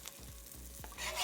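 Two quesadillas with chicken and Oaxaca cheese in flour tortillas frying side by side in a pan over medium-low heat, giving a steady, soft sizzle with a few light scrapes and a brief rise in hiss near the end.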